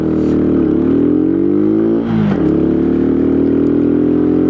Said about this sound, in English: It's a grunty little engine, this one, and it really handles it well.